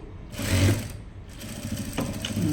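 A sewing machine stitches the side seam of a blouse in short close bursts, a brief whirring run followed by a pause and then a second run.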